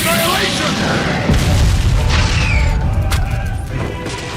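Fire-style attack explosion effect from an anime fight, a loud continuous roaring boom with crackling bursts over several seconds, with a voice shouting over the blast.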